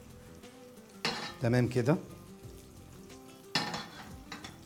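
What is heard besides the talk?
stir-frying carrots and garlic in a pan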